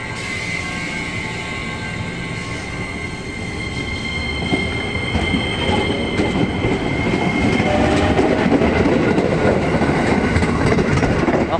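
A train rolls through a railway station in Indonesia, a steady rumble and rattle of wheels on rails that grows louder after a few seconds, with high wheel squeal and clicking joints and no talking.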